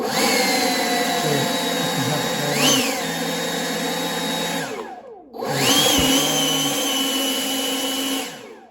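A Husqvarna battery leaf blower runs on boost with a loud, close, steady whine and rushing air. It winds down near the middle, then spins back up and holds before tailing off, with no talking.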